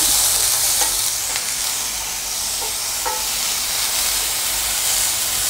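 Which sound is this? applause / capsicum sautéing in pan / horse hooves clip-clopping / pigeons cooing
capsicum sautéing in pan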